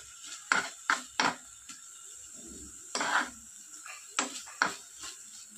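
A bean and mustard paste mixture is stirred in a pan, giving a series of sharp utensil scrapes and knocks in uneven bursts, close and moderately loud, with quiet gaps between strokes.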